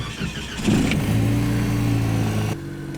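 A 1967 Pontiac Firebird's engine cranks briefly and catches, then settles into a steady, loud, close idle with a low hum that drops in pitch near the end.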